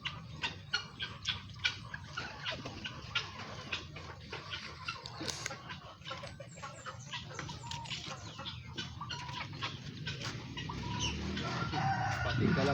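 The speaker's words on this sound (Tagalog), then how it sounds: "Mix na ito, may native na manok, mga pato, pabo," Native chickens, ducks, turkeys and pigeons at feeding time make a steady, close clucking and crowing chatter, with scattered sharp calls over a continuous backyard flock noise that swells toward the end.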